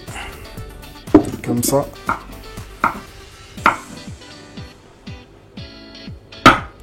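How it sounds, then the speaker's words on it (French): Knife chopping the ends off courgettes on a board for a simple healthy dish, a handful of sharp irregular cuts and knocks close by, with a person talking over them. "On va commencer par couper les courgettes à leur extrémité"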